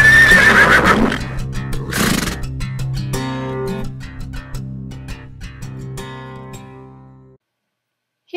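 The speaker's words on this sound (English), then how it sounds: "Miniature horse." A miniature horse neighs loudly in a long, shaky whinny that trails off, followed by a few softer snorts and fading tail-end calls.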